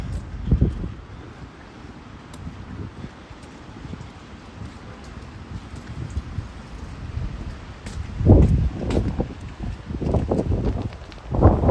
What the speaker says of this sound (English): there comes the wind again